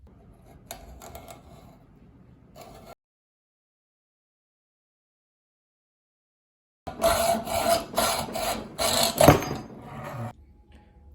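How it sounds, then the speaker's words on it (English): Hand saw finishing a cut through an aluminium bike frame tube, a short burst of rasping strokes, then a pause, then a louder run of rapid back-and-forth strokes close by. "I made most of the cut on the miter saw, and then I'm just gonna finish it on the hand saw."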